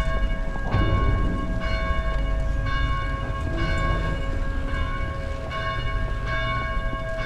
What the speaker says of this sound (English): Helen, maybe you can figure out how to silence those blasted bells.